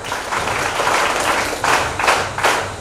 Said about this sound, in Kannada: ಅವ್ರಿಗೊಂದು ಜೋರಾದ ಚಪ್ಪಾಳೆ ಕೊಡ್ಬೋದು